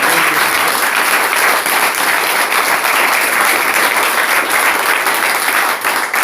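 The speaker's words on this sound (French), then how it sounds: "Applaudissez encore pour la sœur." Congregation at a church gathering clapping loudly and continuously in dense, even applause.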